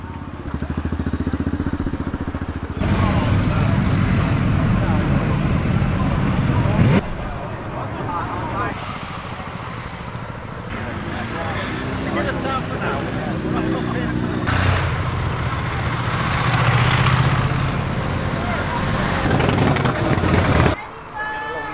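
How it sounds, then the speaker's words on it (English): Crowd of motorcycles at a memorial rideout in Scarborough and Whitby, a steady loud engine drone and rumble throughout, with nearby voices and babble mixed in. "Just as far as you can see is bikes."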